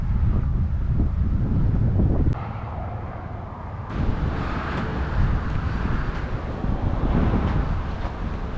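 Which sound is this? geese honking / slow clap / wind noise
wind noise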